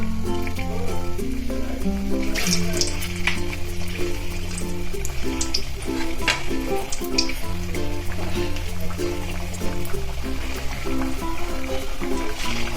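Mutter kachori frying in hot oil over medium heat, a steady continuous sizzle and bubbling under looping background music throughout.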